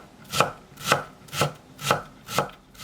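A knife chops a carrot on a cutting board in five evenly spaced, crisp thuds, close and clear with no voices.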